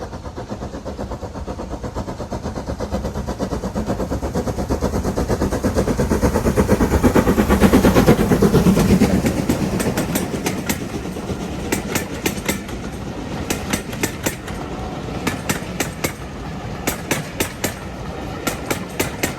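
A steam locomotive, a Stanier Mogul, rumbles past close by with its train at a heritage railway steam gala, swelling to a loud peak midway, then rhythmic clickety-clack of wheels over rail joints as carriages roll on.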